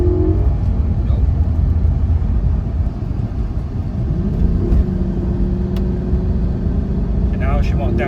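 An Audi A6 engine with a failing transmission that won't downshift drones and revs loudly from inside the car, rumbling low and steady as a voice talks over it.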